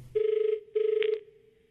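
A telephone rings twice in quick succession, each ring a clear, close electronic trill with a brief pause between, heard alone during a radio prank call.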